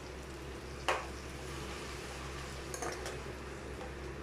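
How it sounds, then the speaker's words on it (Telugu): Onion and curry leaves fry in a pan for a bottle gourd masala curry, a faint steady sizzle with a low hum beneath, broken by a sharp utensil clink near the start and a few light scrapes later. "ఉల్లిపాయ బాగా వేగనిద్దామండి. ఇంకా ఇందులో కొంచెం కరివేపాకు"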